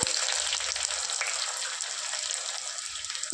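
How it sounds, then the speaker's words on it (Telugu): Cumin, mustard seeds, dried red chillies, onion and garlic fry in oil for a fenugreek-leaf dal. A dense, close, steady sizzle continues throughout the short clip. "నాలుగు ఎల్లిపాయ రెబ్బలు ఫ్రై చేసుకుందాం"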